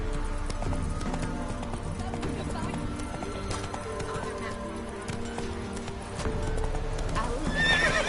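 Roach the horse gallops in Witcher 3, a steady drumming of hooves with snorts and a whinny, close and loud over game music, with a voice speaking briefly.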